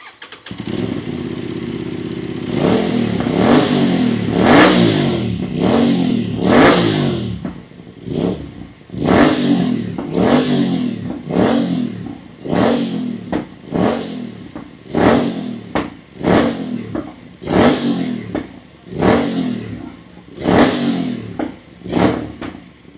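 A sport motorcycle fitted with an aftermarket titanium full-system exhaust holds a loud rev, then snaps through about a dozen sharp throttle blips, each rising and falling quickly, close and unaccompanied.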